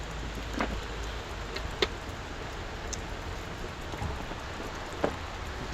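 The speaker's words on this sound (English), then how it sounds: "it's raining" Rain falls steadily outdoors along the Appalachian Trail near a country store, a faint continuous patter with a few sharper drips and ticks, no talking.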